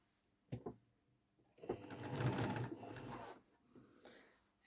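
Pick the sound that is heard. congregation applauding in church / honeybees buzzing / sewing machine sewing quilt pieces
sewing machine sewing quilt pieces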